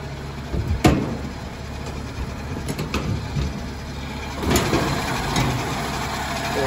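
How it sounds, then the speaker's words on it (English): A 1939 DeSoto S-6 touring sedan's 90-horsepower motor idles quietly in a low, steady hum, with a few sharp clicks and knocks on top and no voices. "Very good motor right here. That runs quietly."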